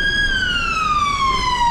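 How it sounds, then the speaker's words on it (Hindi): A loud, close ambulance siren on a London road sounds as one long wailing tone that slowly falls in pitch as the vehicle passes. "देखो ऐसे एम्बुलेंस आती है ना भाई"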